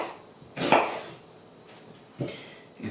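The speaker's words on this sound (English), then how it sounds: "So I'm just gonna slice up the onions into fairly small pieces, appropriate for sauteing." A kitchen knife cuts onions into small pieces on a board for sautéing, giving a few sharp, close chops spaced apart, one louder stroke followed by two lighter ones.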